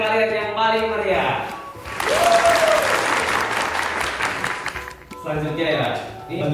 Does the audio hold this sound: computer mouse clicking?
no